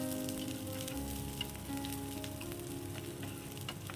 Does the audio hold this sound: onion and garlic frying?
yes